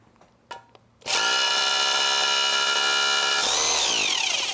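A hammer drill bores into masonry, starting abruptly after a few faint knocks and then running loud and steady, its whine shifting slightly in pitch toward the end as it keeps grinding close by.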